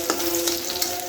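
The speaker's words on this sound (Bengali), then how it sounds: "এখন আমি মরিচগুলো তেলে ছেড়ে দেব।" Dried chillies and garlic fry in hot oil with a close, steady sizzle, broken by a few sharp crackles and pops over about a second.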